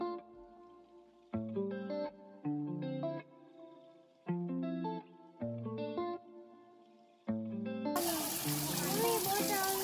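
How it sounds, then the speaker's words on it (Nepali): Water gushes out at a sightseeing spot in Itahari, Sunsari, Nepal, bursting in as a loud, steady rush near the end after a stretch of music. "बाहिरसम्म पानी छुट छुट छुट छुट आउँछ कस्तो मजाले पनि है"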